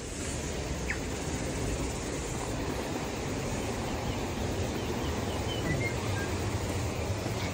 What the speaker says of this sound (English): I can hear the falls.